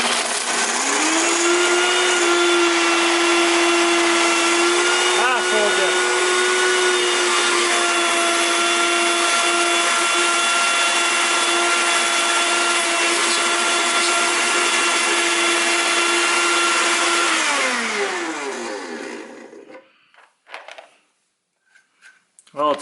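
A blender filled to about four cups with ice runs continuously at a loud, steady whine, crushing and grinding for roughly twenty seconds before winding down and stopping.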